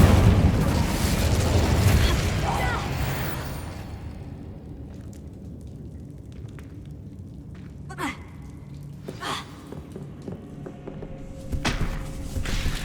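Incendio fire spell cast in the Hogwarts video game, a loud whooshing burst of flame at the start that fades over a few seconds, followed by scattered lighter thuds and pops.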